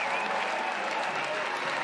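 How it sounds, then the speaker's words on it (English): A softball crowd stands and applauds a defensive play, steady sustained clapping filling the stadium with dense, even applause from start to finish. "And the crowd here loving it. Standing to applaud Elon Butler."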